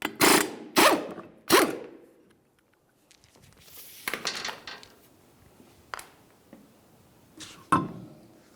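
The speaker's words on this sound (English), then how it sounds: "continue on by removing all 5 of your 19mm lug nuts and then the wheel" Rear wheel being removed from a 2010-2013 Ford Transit Connect: a few sharp metallic ratcheting bursts as the five 19mm lug nuts come off, followed by scattered clanks and knocks of handling the wheel, all close and loud with short pauses.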